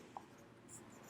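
Pen or chalk writing during a lesson, a faint, brief scratching stroke or two over a quiet background, with no talking.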